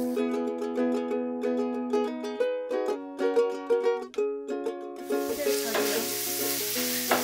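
Peas, tomatoes, beets, beet tops, garlic and onion sizzling in a stir-fry pan, a hissing fry that rises in the second half beneath plucked background music.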